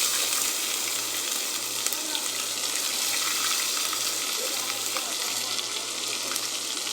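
Garlic fries in hot oil with spices in a pan for beetroot kuzhambu, making a dense, steady sizzle up close with a faint low hum underneath.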